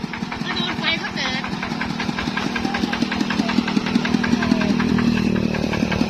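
A vehicle engine idles close by with a steady, even pulsing throb that builds slightly toward the end, with a voice speaking over it.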